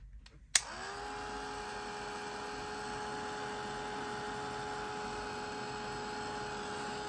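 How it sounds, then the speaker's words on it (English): A blow dryer on low setting used to dry watercolor paint switches on with a click, then runs as a steady whirring hum with a faint whine, continuous and moderately quiet. "if you have a craft dryer or just a blow dryer on low, you can use that"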